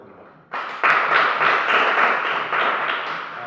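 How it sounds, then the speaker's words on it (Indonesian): A classroom full of students breaks into applause for a group of classmates, with many hands clapping together in a loud, close burst that starts abruptly and stays steady to the end. "Kita beri tepuk tangan untuk kelompok 1."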